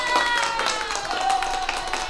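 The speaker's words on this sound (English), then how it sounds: "Let's get a clap." An audience claps in a scattered, uneven rhythm, with individual hand claps audible and some chatter mixed in underneath.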